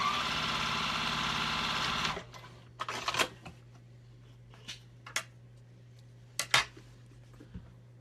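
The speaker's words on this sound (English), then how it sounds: "Okay, now I'm gonna sew this." A Juki 2000 QI sewing machine stitching fast, a dense loud steady whir for about two seconds, then stopping, followed by scattered clicks and handling noises against a low hum.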